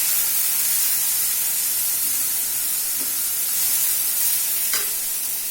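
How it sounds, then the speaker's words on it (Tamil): Ground chili, coconut and fennel paste sautéing in a pan for a Tamil blood fry, giving a loud, continuous broadband sizzle with a couple of faint scrapes or taps partway through. "அந்த மிளகா தேங்காய் சோம்பு அதை ஊற்றிடலாங்க இந்த பச்சை வாசம் போகிற அளவுக்கு நான் வதங்கணும்"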